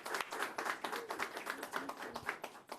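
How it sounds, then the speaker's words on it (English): Audience applause at a health center grand opening with the New York City mayor, a modest group clapping in fairly distinct, close, uneven claps rather than a dense roar. "Let's give Robin a round of applause."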